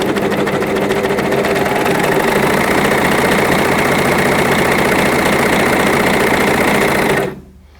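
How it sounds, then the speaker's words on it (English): A bernette B42 coverstitch machine sewing at speed, a loud continuous rapid mechanical chatter of stitching that runs steadily then stops abruptly near the end. "I control my sewing speed on the B42 fun lock between about 600 stitches up to a maximum of 1300 stitches"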